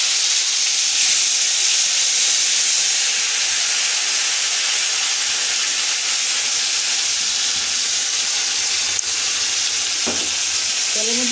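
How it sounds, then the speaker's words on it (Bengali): Ginger and garlic frying in hot oil make a loud, continuous sizzle and hiss throughout, close up, with a brief utensil clink and scrape near the end and no talking. "তেলের মধ্যে আদা রসুনটা আমি একটু সবসময় ভেজে নেব আর কি।"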